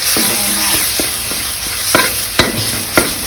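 Fish stir-fries with red curry paste in a pan, a steady hiss of sizzling oil under repeated sharp scraping strokes of a spatula, close and loud with no talking.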